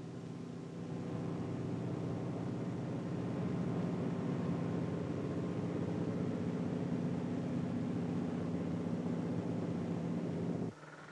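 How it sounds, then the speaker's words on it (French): A light airplane drones low over seals lying on sea ice, its engine a steady, muffled hum that holds for about ten seconds before cutting off, with no voices. "dès que l'avion perd de l'altitude, que le bruit du moteur se fait percevoir plus nettement"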